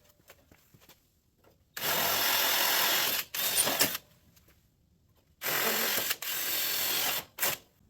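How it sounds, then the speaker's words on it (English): A power drill bites into steel in long grinding bursts, drilling bolt holes, two pairs separated by short pauses, loud and close, in a garage. "I'm going to drill some holes in the steel for bolts"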